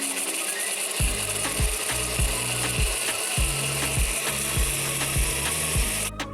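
A blender whirs through cut lemons and half a glass of water, a loud, steady motor hum with a rhythmic low pulsing chop that continues for several seconds without speech.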